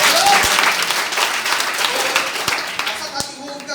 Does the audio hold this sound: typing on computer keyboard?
no